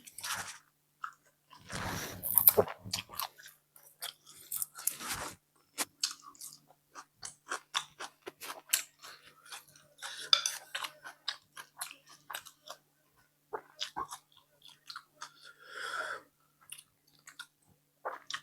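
Close, crunchy chewing of bamboo shoot curry with mushrooms, khayaeng herb and fermented fish sauce. Irregular bites and wet mastication come in bursts with short pauses between them, and no one talks.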